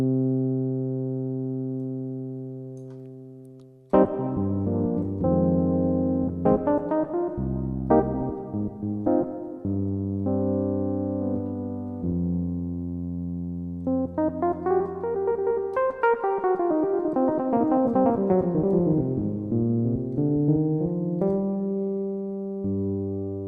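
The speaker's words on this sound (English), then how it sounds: "But the most important thing here is the reverb." A hall reverb built on Eventide-derived algorithms is demonstrated on sustained synth-like tones and gliding melodic phrases, each note blooming into a long, smooth wash that lingers and decays, with no talking over it.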